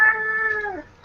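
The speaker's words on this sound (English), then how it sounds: "Yeah, that's my cat." A single cat meows once, a clear, fairly loud, slightly falling call lasting under a second, close by and alone.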